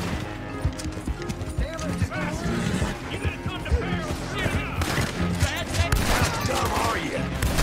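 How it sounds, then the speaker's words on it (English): Chaotic gunfire in Red Dead Redemption 2, scattered shots crackling over a busy mix of hooves, movement and game music, loud and continuous throughout. "They were shooting to mess with us!"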